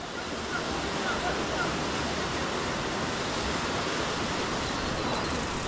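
Fast mountain torrent rushing in the rain at Les Arcs-sur-Argens: a steady, loud broadband roar of churning water that fills the whole stretch without a break.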